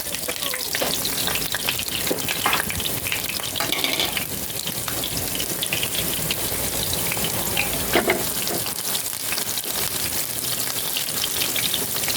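Onion and garlic sauté in a pan for pancit, producing a dense, continuous crackling sizzle up close, broken by scrapes and clatters of stirring.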